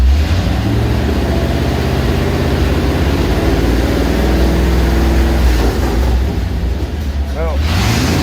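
A car idling steadily with its transmission shifted into drive, a constant low engine rumble close by, with no clear change in engine speed.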